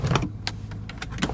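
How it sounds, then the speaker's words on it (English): The electric sunroof of a 1999 Mercedes-Benz AMG C43 runs with a low motor hum, broken by a few clicks and light thumps, close up and brief. "Sunroof functions as it should."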